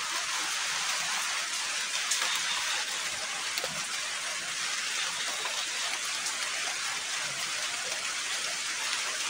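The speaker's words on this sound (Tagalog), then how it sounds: "lakas pa kasi ng ulan" Heavy rain falls steadily, a dense, loud hiss of drops on surfaces continuing without a break from start to finish.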